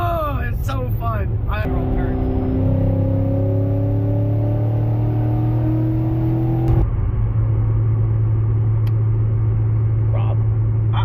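A Corvette revs hard in a snowstorm as its wheels spin in snow, the engine note climbing steadily then dropping to a lower drone, loud and close inside the car with continuous background noise.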